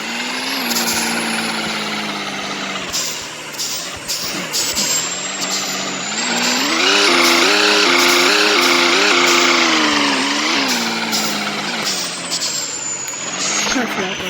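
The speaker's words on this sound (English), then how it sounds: "This is my farm truck. Now let's just go get the trailer for my farm" A farm truck engine runs loud and steady with a low rumble and shifting whine as the revs rise and ease off. A voice can be heard speaking over it.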